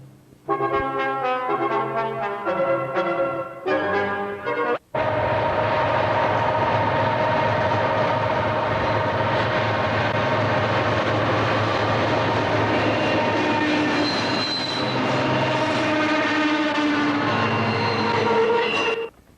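The Pennsylvanian passenger train rolls past on the tracks, a loud sustained roar of wheels and cars close by, with an earlier stretch of tonal horn-like notes before the full rumble takes over.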